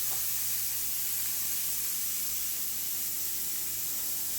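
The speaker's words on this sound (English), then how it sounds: "We'll sizzle that for a few minutes before we add our ground beef." Chopped onion sizzles in a hot pan, a steady, close, broadband hiss that holds level throughout without talk.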